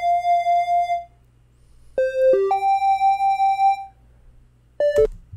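A digital synth instrument plays a short Pokémon melody: clean electronic tones with bright harmonics, a held note, a pause, then several steady notes and a quick final pair, loud and alone with no talk.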